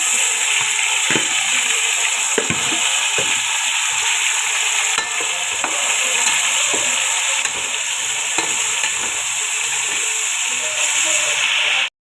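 Marinated beef tossed and stirred with onions in a hot pan, a steady loud sizzle and hiss running throughout with repeated scraping stir strokes, no one speaking.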